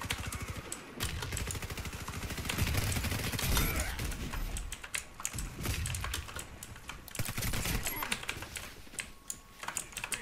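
Rapid bursts of AS VAL suppressed rifle fire in the online shooter Warface, with clicky keyboard typing prominent throughout and a player talking intermittently over the steady gameplay noise.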